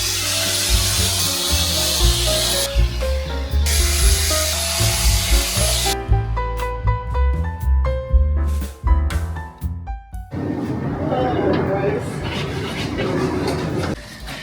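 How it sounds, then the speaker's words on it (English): Power grinding on metal during a camper van build, a loud rough buzzing whine that cuts out midway, giving way to scattered knocks and clatter before grinding noise returns. "So yeah, I just need to grind a few more bits."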